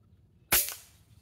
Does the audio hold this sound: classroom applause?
no